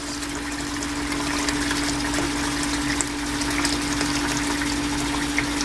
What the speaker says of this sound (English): So you want to fill this up with cold water.